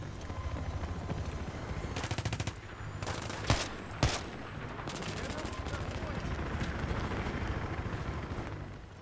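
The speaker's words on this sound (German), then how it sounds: "Ich höre den Heli." Helicopter and gunfire in the video game Battlefield 3: a steady rotor drone throughout with rapid automatic bursts and two sharp loud shots or explosions near the middle.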